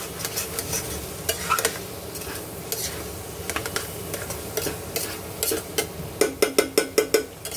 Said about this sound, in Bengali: তো দেখো ভাজা ভাজা হয়ে এসছে, একদমই কড়াইতে ধরে গেছে।